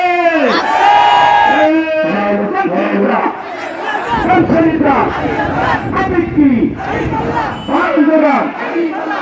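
A large crowd at a political rally loudly chants the Takbir slogan in unison, repeated call-and-response shouts that swell and fall, with a leader's voice carrying over the massed voices.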